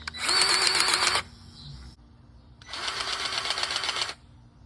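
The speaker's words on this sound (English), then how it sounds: "we are using the cordless Milwaukee grease gun" Cordless Milwaukee grease gun on a used Bobcat soil conditioner, two bursts of buzzing whir, each over a second long, separated by a short pause, fairly close and moderately loud.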